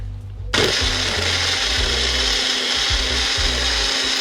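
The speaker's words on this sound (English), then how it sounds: "Now we mix everything and make a wonderful dressing." A blender kicks in after a brief pause and whirs steadily and loudly, blending a vegan dressing of oil, nutritional yeast and minced garlic for a pasta salad, with no talking over it.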